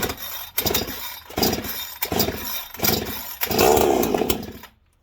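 A ported 45cc Chinese chainsaw is pulled over repeatedly with choke and throttle lock on, giving rhythmic loud bursts of engine chugging before it catches and runs briefly at high revs, then cuts off.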